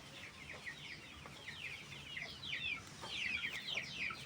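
Chickens cluck in a steady stream of short, chattering calls on a farm, faint and somewhat distant against a constant outdoor hiss, with no talk.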